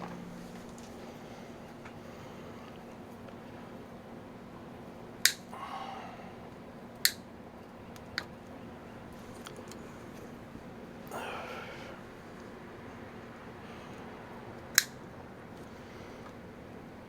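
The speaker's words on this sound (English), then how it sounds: "I will get my cutters and cut all that crap off" Wire cutters snipping old wiring off a Marmon 57P car, several sharp isolated clicks spaced seconds apart over a quiet background hum, with faint rustling between cuts.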